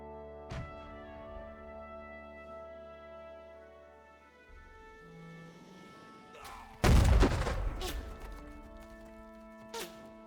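Mortar artillery in Battle Cry of Freedom: a sharp launch thump early, then after a quieter stretch a heavy booming impact with rumbling debris, set against a sustained musical hum, with one smaller thud near the end.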